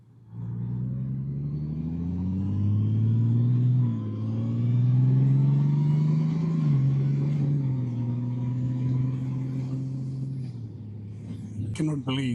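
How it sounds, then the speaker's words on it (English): A 2025 Honda Goldwing motorcycle cruising, its smooth engine drone rising and falling with throttle under steady wind rumble, with a rustling burst near the end. "I cannot believe how much fun riding this bike is and how stable it is."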